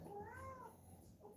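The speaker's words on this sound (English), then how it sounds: "You can hear my babies, you might hear my cats right now." Cats meow in another room, one drawn-out, faint, muffled meow rising and falling over a low background hiss.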